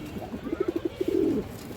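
A pigeon coos close by, a quick series of soft, low, throaty pulses followed by a longer rolling coo.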